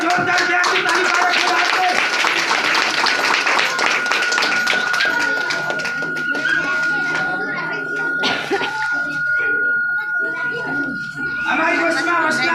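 A crowd claps hands loudly and steadily at a village congregation gathering, the dense applause running through most of the span and thinning toward the end, with a voice speaking over it.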